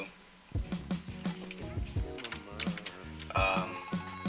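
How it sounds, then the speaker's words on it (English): Rapid clicking keystrokes on a computer keyboard tap out an uneven rhythm, close and moderately loud, with a brief louder burst partway through. "This is like the only thing I'm going to do that involves typing"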